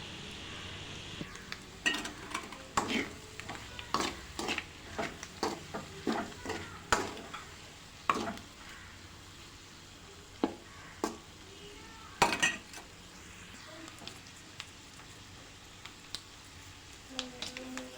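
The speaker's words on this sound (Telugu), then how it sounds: "అది వేయగానే మొత్తం కలుపుతూ ఉండాలి చాలాసేపు ఆపుకోకుండా ఒక ఫైవ్ సెకండ్స్ అలా గ్యాప్ ఇస్తూ కలుపుకుంటూనే ఉండాలి" A pan of goat blood curry is stirred steadily, each spoon or spatula stroke scraping with a sharp click in a rhythmic series, over a low background sizzle with no talking.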